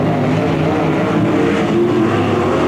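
UMP modified race cars roar around Merritt Speedway down the back straightaway, a loud, continuous blend of engines droning together at close range.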